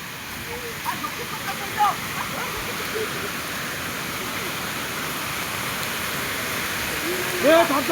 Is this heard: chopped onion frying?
no